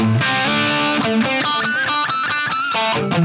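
An electric guitar runs through a Line 6 Helix with a ribbon-mic cabinet model, a short run of overdriven, slightly distorted notes and chords playing loud and close with no talking.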